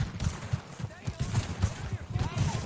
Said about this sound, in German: Die schießen mich ja.